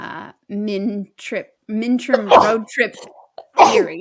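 A single sharp sneeze bursts out in the middle of a lively conversation, with people talking right before and after it.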